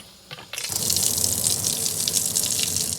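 A motion-activated pull-down kitchen faucet switches on after a brief click, then water gushes steadily and loudly into the sink for the remaining few seconds before cutting off.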